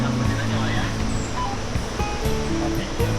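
Curug Sejoli waterfall below Gunung Khayangan near Cipamingkis pours in a steady, loud broadband rush of falling water, continuous and close with no speech over it.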